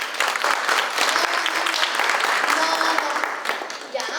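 An audience at a school event claps in answer to a show-of-applause question about climate change: a full, continuous burst of clapping that holds steady throughout and eases slightly at the very end.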